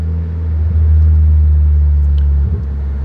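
Car driving with the engine humming low and steady, swelling as it accelerates and then easing back slightly near the end. The engine is heard alone, without speech.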